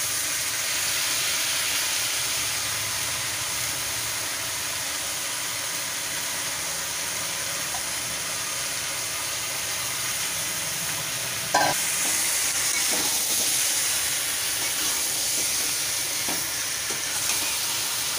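Tomato and chili powder hit a hot pan with a loud, steady sizzle and hiss, joined midway by a sharper burst and occasional stirring scrapes.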